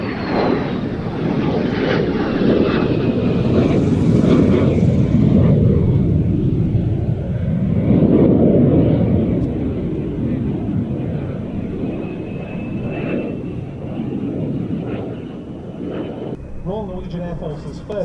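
Early jet aircraft from the Norwegian Air Force Historical Squadron passing at an airshow, a loud, broad roar that swells and fades over many seconds, with a voice talking over it.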